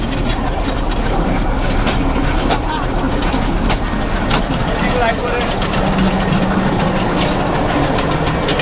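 A commuter train rumbles past close by at Rajendrapur railway station, a loud, steady broadband roar with rail clatter and clanks throughout, and voices faintly underneath.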